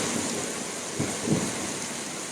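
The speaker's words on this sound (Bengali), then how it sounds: "আমরা বৃষ্টি পাচ্ছি আলহামদুলিল্লাহ আল্লাহ তালা বৃষ্টি দিচ্ছেন আমাদের জন্যে" Steady rain falls in Lohagara, Chattogram, a continuous close hiss with two brief low rumbles of thunder about a second apart.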